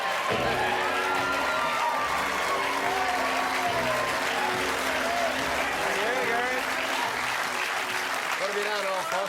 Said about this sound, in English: So a bit of a sympathetic round of applause for this man